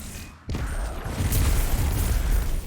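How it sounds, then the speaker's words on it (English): Void grenades detonating in the Destiny 2 video game, a sudden loud burst followed by a sustained roaring, crackling rumble of blasts that carries through the rest of the moment. "Gotta love the fireworks when those void grenades go off."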